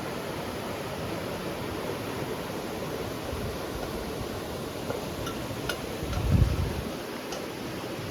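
A river flows beside an outdoor cooking spot in the monsoon, a soft, steady, even rush of water with a few faint ticks and a brief low bump near the end.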